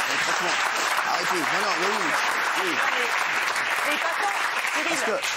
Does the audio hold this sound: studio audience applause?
yes